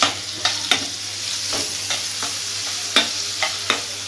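A spoon stirs vegetable Maggi noodles in a hot pan, a steady sizzle running underneath with repeated sharp scrapes and clinks at an irregular pace, close up, and no talking.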